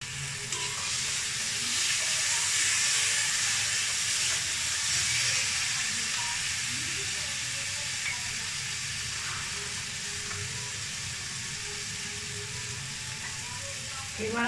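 Spiced brinjal and potato masala sizzles and hisses steadily in a pan on a home stove, with a constant bright frying hiss throughout and someone talking at times.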